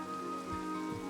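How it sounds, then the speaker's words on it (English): Steady in-game rain in Minecraft pours down across the whole stretch, a constant close hiss of drops on the ground with a few low soft thumps mixed in. "It's still raining, so I might just keep fishing."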